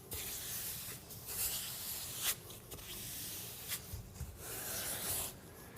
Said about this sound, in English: In order to completely fill the joint, work the float diagonally, both directions, as you work along the floor.